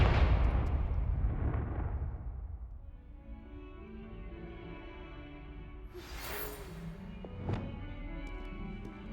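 Confringo blasting spells explode in Hogwarts Legacy, a loud booming blast fading away, then a second burst with a sharp crackling pop shortly after.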